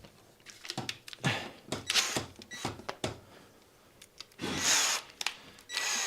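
Bursts of drilling from a power drill through a panel, stopping and starting in short runs with a longer whine near the end, close by.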